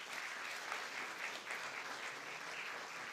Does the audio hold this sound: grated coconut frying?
no